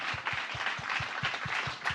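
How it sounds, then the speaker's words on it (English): Audience applause for three panel speakers at a talk on touring in the USA, a steady wash of many hands clapping, with a soft low thump pulsing regularly underneath throughout. "Give an applause for our 3 speakers."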